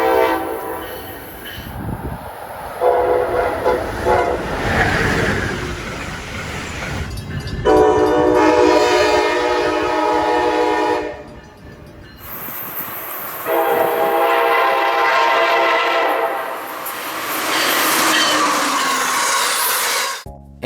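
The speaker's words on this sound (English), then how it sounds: "The ACS-64 comes equipped with a Nathan K5LA air horn." A Nathan K5LA air horn on a Siemens ACS-64 electric locomotive sounds in several loud, sustained chord blasts separated by brief gaps, with rail noise of the passing train underneath.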